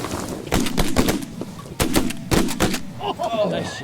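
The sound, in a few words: shotgun shots at ducks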